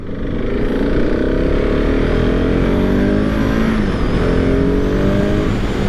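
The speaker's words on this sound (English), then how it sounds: "the 2023 KTM 690 SMC R. This is KTM's Supermoto bike from the factory." A 2023 KTM 690 SMC R supermoto motorcycle is ridden, its engine a loud continuous drone with rising and falling pitch sweeps as it pulls and shifts, heard close over wind.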